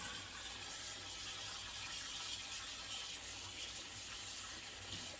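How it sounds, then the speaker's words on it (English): Strawberries rinsed under a running kitchen tap, a steady full-band rush of water splashing into a sink, continuous and close with no speech. "And we're going to give these a really good rinse."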